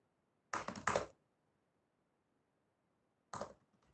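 Quick bursts of keystrokes on a Mac Butterfly laptop keyboard, a short cluster of crisp clicks followed after a pause by another brief flurry, close and quiet in an otherwise silent room.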